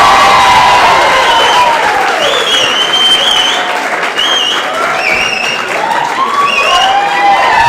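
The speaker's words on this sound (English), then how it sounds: "ladies and gentlemen, clap it up for Gregg Farah." Loud comedy club audience applause for a comedian at Gotham, sustained clapping mixed with cheers and whoops over several seconds, with scattered voices shouting through it.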